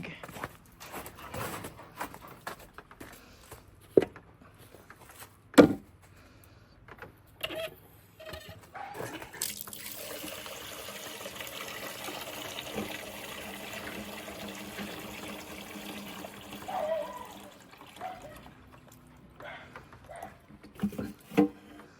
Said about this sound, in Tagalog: Lagyan muna natin siya ng tubig.